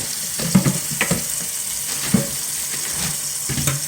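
Tap water runs steadily into a sink to rinse salt off sliced cucumbers being prepared for bread and butter pickles. The even hiss is broken by a few splashes and knocks as the vegetables are handled. No one speaks.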